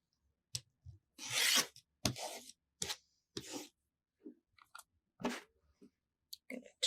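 Rotary cutter or blade slicing through quilt fabric along a ruler, a series of short close crunching cuts with one longer stroke early on, separated by quiet gaps and light handling noises, no talking.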